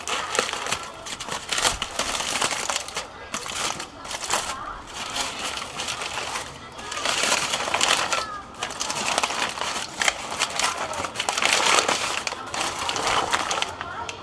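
Continuous crinkling and rustling as wrapping comes off a smoked beef hammer just finished on a barbecue, with steady close crackles and crunches throughout.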